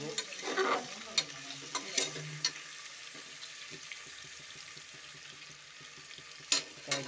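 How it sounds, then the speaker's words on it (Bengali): Masala base for a meat curry being stirred and fried in a pan, with steady scraping stir strokes in a regular rhythm over a soft background sizzle and a few louder clatters, close and without talk. "তার জন্য এটাকে কষিয়ে আমরা ভেজে নেব প্রথমে।"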